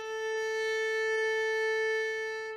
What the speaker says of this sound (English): So this will be the good sound